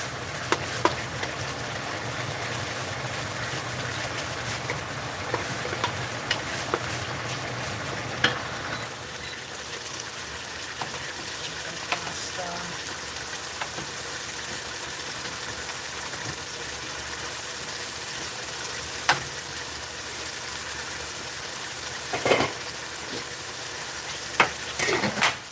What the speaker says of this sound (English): just while we're sauteing our beef.